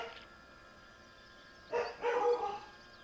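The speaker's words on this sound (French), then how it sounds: "Voici mon chien qui aboie là-bas, vous l'entendez sûrement." A dog barks a few times some distance away, two short muffled barks standing out over a quiet indoor background.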